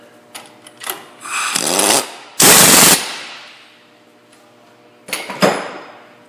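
Tightening a bolt on the vacuum hub of a 2004-2014 Ford F-150 4x4: several loud, close bursts of rapid rattling power-tool hammering, the longest around the middle, with short quiet gaps between them.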